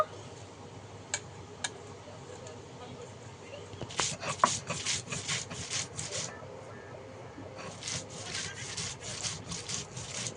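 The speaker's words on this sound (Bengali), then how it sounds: "অল্প একটু জিরে নিয়ে নিয়েছি আর তার সঙ্গে সাদা সর্ষে নিয়ে নিয়েছি আমি একসঙ্গে বেটে নেব" Cumin and white mustard seeds ground together into a paste for a steamed prawn dish, with rhythmic scraping strokes in bursts of repeated rubbing, a few sharp knocks before them, close and fairly loud.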